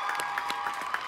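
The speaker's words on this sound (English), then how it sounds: "Round of applause for that." Faint, thin applause during a live stream: a light round of clapping with a few distinct claps repeating at an even pace, heard from a distance.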